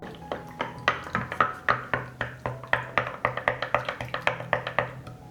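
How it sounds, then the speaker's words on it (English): Spoon stirring wood ash into a homemade liquid garden fertilizer in a container, a steady series of quick clinking taps against the sides, about two to four per second, close and fairly loud. "After standing for an hour, I add 2 spoons of wood ash. I'll stir."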